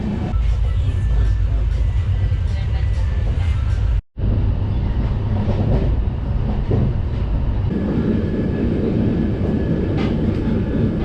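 Inside a moving passenger train, a loud continuous rumble of wheels on rails with rattling carriage noise, a momentary dropout partway, and a steady roar carrying on with faint voices in the background.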